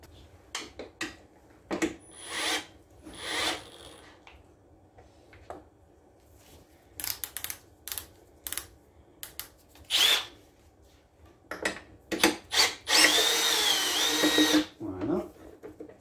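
A power drill loosens a screw on a lawn mower under overhaul, whirring in short repeated bursts with pauses between, then a longer louder run near the end, close up and without talk.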